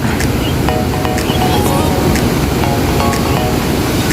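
Ocean surf at high tide in Waterfall Bay, Pok Fu Lam, Hong Kong, rolls in as a steady, loud wash of breaking waves with wind buffeting the microphone throughout.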